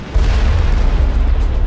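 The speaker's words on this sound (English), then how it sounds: "Don't get hit by a rocket now" A rocket explosion in the video game Mass Effect, a heavy low rumbling boom that hits suddenly and rolls on loudly for over a second, dense and close with no voices.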